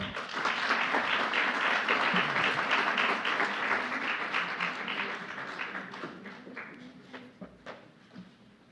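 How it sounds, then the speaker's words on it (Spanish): Strong audience applause at a panel session on legal appeals, loud and dense at first, then thinning over several seconds to a few last scattered claps. "Un fuerte aplauso, por favor."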